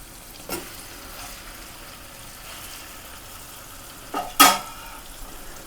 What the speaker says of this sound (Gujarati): ભરેલા ભીંડાને અંદર નાખી અને એકવાર આપણે મિક્સ કરી દેવાનું છે